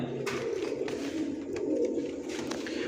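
Soft, repeated pigeon cooing close by, low rounded calls rising and falling continuously without talking.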